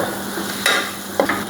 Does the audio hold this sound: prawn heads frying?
yes